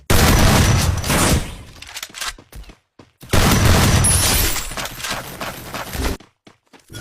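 Loud, close gunfire in the battle royale game Free Fire, two long bursts of rapid automatic shots, each trailing off into scattered single shots and short pauses.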